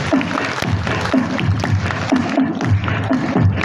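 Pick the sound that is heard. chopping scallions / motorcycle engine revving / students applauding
students applauding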